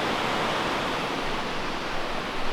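The waterfall at Gordale Scar in the snowy Yorkshire Dales gives a steady, broad hiss of rushing water, even and unbroken, with no voices over it.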